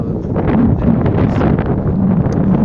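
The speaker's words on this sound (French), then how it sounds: "J'espère que vous entendez, il y a un petit peu de vent aujourd'hui." Steady wind buffeting a microphone outdoors at Lourdes, a continuous broadband rumble and rush filling the whole stretch, loud and close with no talk over it.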